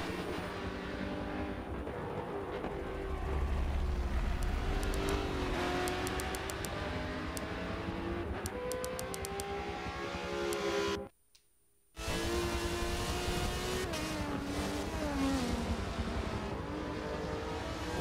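McLaren GT race car at Bathurst during an endurance GT championship race, its engine a loud, continuous howl that rises and falls in pitch through gear changes, with one brief dropout near the middle.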